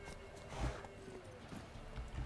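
Horse hooves in the video game The Witcher III, soft irregular clip-clop thuds at a walking pace over a steady low game ambience, fairly faint.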